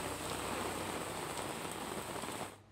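Heavy rain pours steadily onto surfaces in Jetpur, Rajkot district, a dense, even hiss that ends abruptly.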